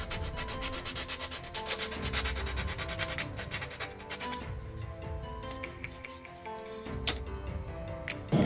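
A knife blade being sanded down by hand, steady continuous rubbing strokes up close with a few sharper scrapes, no talking.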